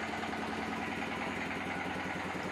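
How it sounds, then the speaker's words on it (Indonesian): Diesel engine driving a rice hulling mill runs steadily, a loud continuous chugging drone with a fast, even pulse and no pauses. "Dan ini proses menghidupkan diesel"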